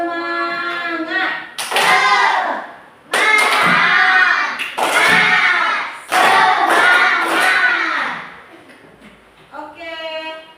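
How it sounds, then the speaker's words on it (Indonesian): Children clap a rhythmic spirit clap together, bursts of claps separated by short pauses, loud and close, with voices chanting along. "Coba tepuk semangat dulu anak-anak. Tepuk semangat."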